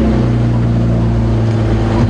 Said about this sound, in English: See, the sound of a car is almost challenging to elephants.